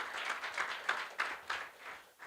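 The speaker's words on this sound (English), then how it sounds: "Please can we give Doctor a round of applause?" Audience applause at an awards luncheon, a faint, brief patter of hand claps with soft individual claps standing out, heard from a distance.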